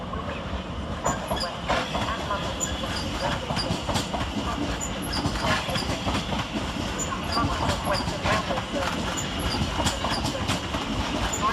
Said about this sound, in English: Next out to depart is 710-379, working the 1500 London Overground service to Watford Junction